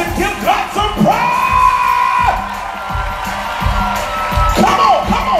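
A church congregation cheers and shouts praise during opening worship, a loud sustained crowd roar with whoops and yells over an amplified background and a few drawn-out vocal cries.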